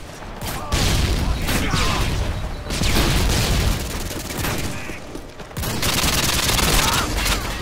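Heavy gunfire fills a Domination match on the Crash map in a first-person shooter, sustained bursts of close automatic fire with brief pauses between volleys and mechanical clatter throughout.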